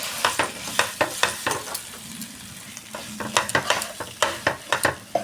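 Potato pieces fried in a pan with a little white oil, chili powder and grated ginger, with a continuous close sizzle broken by rapid, repeated spatula scrapes and clatters as it is stirred, no talking.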